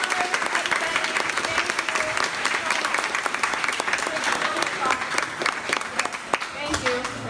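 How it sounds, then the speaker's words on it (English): Audience at a Scotch Colony 145th anniversary concert applauds volunteers and performers, a steady dense wash of clapping lasting throughout with some louder individual claps and faint voices mixed in. "Could I have a round of applause for all the volunteers, all the performers,"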